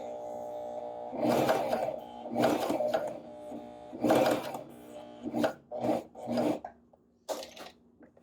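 A sewing machine set to a short stitch length sews a V-neckline, running in several short stop-start bursts with brief pauses between them. It sounds close, with no talking.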